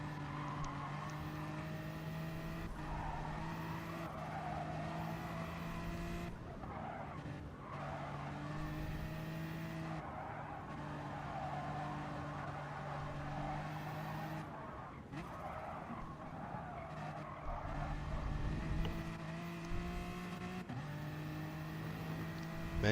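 Race cars lap Circuit de la Sarthe in a racing video game, with continuous engine drones rising and falling, occasional tire squeal and several cars overlapping at moderate distance.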